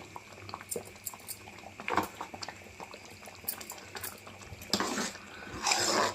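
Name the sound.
semolina upma simmering in pot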